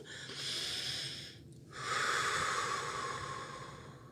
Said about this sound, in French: on va prendre une bonne respiration longue et profonde